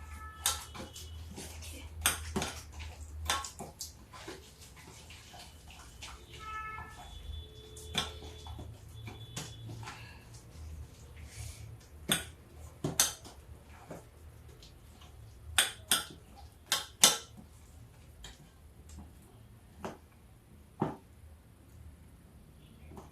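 Coriander batter seasoned with asafoetida is mixed by hand in a bowl, giving irregular clinks and scrapes of a utensil against the dish, some sharp and close, over a low background hum, with no talking.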